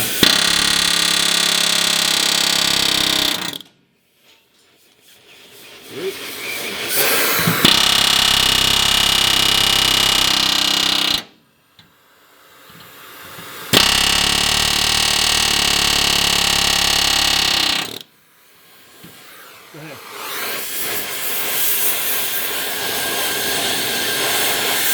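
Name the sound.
air chisel with heated bit cutting truck frame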